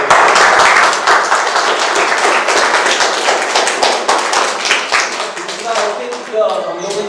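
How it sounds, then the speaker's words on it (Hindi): Loud, dense applause fills a hall as a woman is thanked at a school event for deaf-mute students in Junnar, steady clapping that thins slightly toward the end amid some murmuring. "सबसे पहले मैम के लिए जोरदार तालियां"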